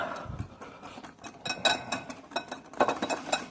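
Ingredients are stirred together in a bowl with a utensil in a home kitchen, giving a run of quick, close clinks and scrapes that grow steadier and more rhythmic partway through, with no talking.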